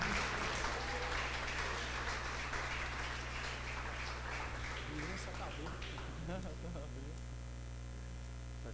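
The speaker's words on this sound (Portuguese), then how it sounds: "Presbítero Lucas, aplauda o Senhor pela vida do nosso irmão" A church congregation applauds, a burst of scattered clapping over a steady electrical hum that thins out and fades after several seconds.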